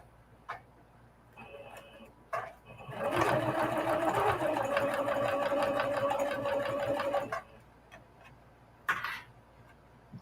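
A sewing machine stitches a seam in one steady run of about four seconds, with brief starts and stops around it; the motor hum and rapid needle chatter sit close and clear.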